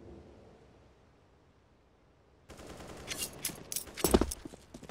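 Gunfire in Counter-Strike on the Overpass map: after a quiet stretch, a burst of sharp shots crackles in, building to one loud close report near the end, with no talk.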